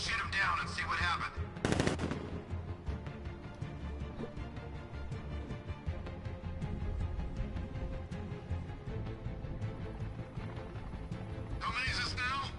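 Sustained machine-gun fire in a Batman video game rattles loudly and steadily throughout, with short bursts of other game noise at the start and end.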